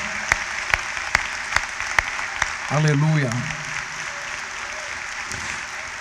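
A church congregation applauds, steady rhythmic clapping with sharp individual claps standing out near the front, while a man briefly calls out over it midway.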